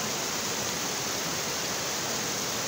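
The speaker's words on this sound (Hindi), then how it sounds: "ये कुदरती पानी का चश्मा है।" A natural mountain spring streams continuously, its water producing a uniform broadband rush that holds steady from start to finish without any speech.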